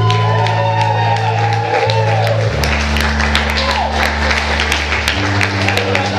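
A concert crowd claps and cheers with scattered whoops and shouts after a band's performance, while a steady low tone hums underneath throughout.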